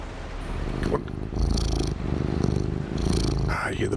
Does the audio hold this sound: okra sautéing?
no